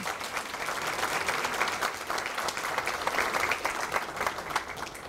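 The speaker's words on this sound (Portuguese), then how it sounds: "Uma grande salva de palmas ao professor Biratã." An audience at a mathematics education lecture gives a sustained round of applause, dense and even throughout with no voices over it.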